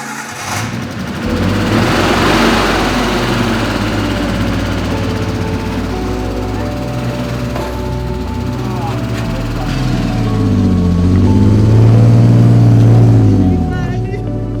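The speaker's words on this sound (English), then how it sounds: "The engine definitely doesn't sound great. I think it's just lifter tick." A Toyota Cressida engine runs with an uneven idle and climbs into a couple of revs, a light lifter tick riding over a steady low drone, heard up close alone.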